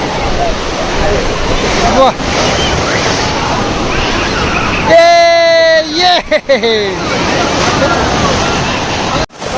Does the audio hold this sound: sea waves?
yes